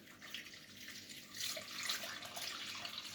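Water poured from a vessel into a glass baking dish for Turkish simit dough, with sugar already added; a steady splashing, trickling flow, close and moderately loud, runs throughout without speech.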